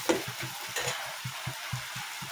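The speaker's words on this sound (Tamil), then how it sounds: "உள்ளியை போட்டு நல்லா வதக்கணும்" Onions sautéing in a pan for homemade noodles, with a steady sizzle and a regular rhythm of stirring scrapes about every quarter second, close and moderately loud, no talking.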